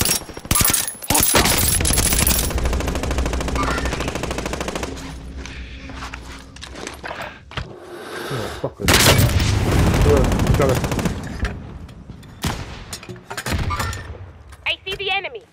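Loud video game gunfire with bursts of rapid automatic shots and heavy blasts, dense through the first half and again midway, with a player talking excitedly over the shooting.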